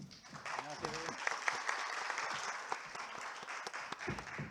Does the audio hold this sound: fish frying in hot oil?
no